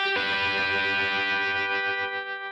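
Electric guitar in a basic blues tone with room reverb and slapback delay: one strummed chord rings out with rich overtones and sustains, slowly decaying with a faint echoing tail.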